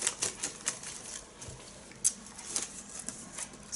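Folded paper slips shaken together in a hat give soft, close rustling and papery patter in scattered bursts, with a few sharper crackles and no talking.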